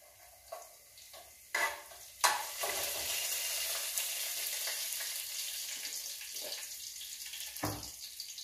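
Cinnamon, cardamom and small cumin seeds sizzle steadily in hot oil after a few sharp clinks, with occasional stirring knocks and a bright crackling hiss throughout, no voices.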